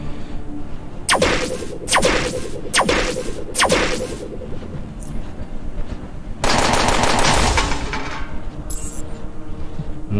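Several short bursts of rapid automatic gunfire in the game UnderRail, then a longer sustained burst, loud and close with a crisp synthetic game quality.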